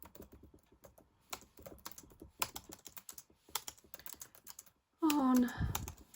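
Computer keyboard typing in a steady run of quick, light clicks for about five seconds, ending in a sudden loud burst of other noise.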